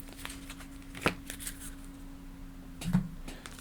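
Cards for the SETI board game shuffled close by, a few quick riffling bursts with soft handling in between, no voices.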